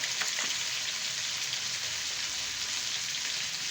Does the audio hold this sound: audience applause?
no